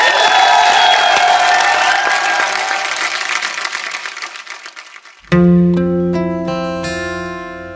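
A studio audience claps and cheers to welcome a playback singer on a comedy talk show stage, loud dense applause that gradually fades before sustained music notes abruptly take over.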